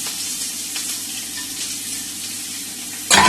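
Chopped onion and carrot sautéing in a hot pan give off a steady, close hiss of sizzling with no talk, followed by a sudden louder burst near the end.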